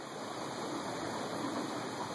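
Steady rushing river water flows close by as a continuous broadband wash with no pauses or distinct splashes.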